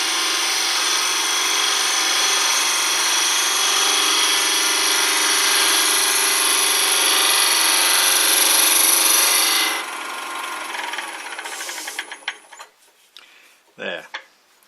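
A wood lathe hums steadily as a brush gouge lifts light shavings for about ten seconds, close and loud; the spin then winds down, with a few faint knocks and a brief voice at the end.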